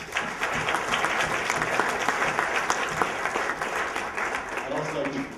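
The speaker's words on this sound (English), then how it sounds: "They deserve a big round of applause." A dinner audience at a Chabad celebration gives a steady, full round of applause, dense clapping filling the room for several seconds, with some background talk mixed in near the end.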